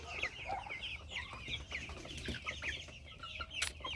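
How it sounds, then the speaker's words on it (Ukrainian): Hens clucking continuously in a poultry yard, several soft overlapping clucks and short calls at moderate distance with a low background hum. "Ось там подалі стоїть курочка без борідки."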